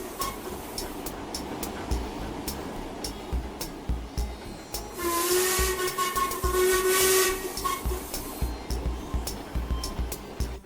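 A steam locomotive in the Trainz simulator gives a long, loud whistle blast lasting about two seconds in the middle, set against the steady chuffing and rhythmic clatter of the running engine.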